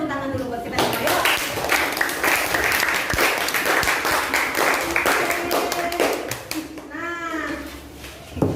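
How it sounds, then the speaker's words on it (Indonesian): A classroom of students claps together in fast, rhythmic applause, loud and near, with children's voices calling out over the clapping toward the end. "Mari tepuk tangan dulu buat kita semua ya."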